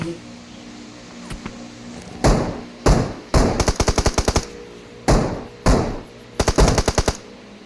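Loud bursts of automatic gunfire from the battle royale video game PUBG, several rapid volleys and single shots in close succession, with brief gaps between them.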